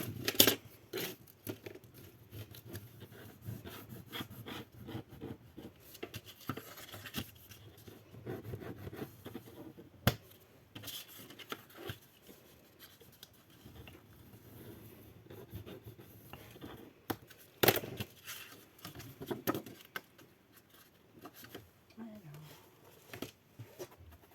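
Paper folds being creased by hand for a scrapbook album, intermittent rubbing and scraping strokes with a few sharper taps, close and quiet.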